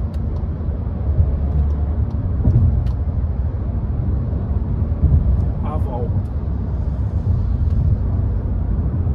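A 2021/2022 VW T-Cross Comfortline with the small 1.0 TSI engine accelerates on the road at close to 120 km/h, giving a steady low cabin rumble of engine and road noise under someone talking.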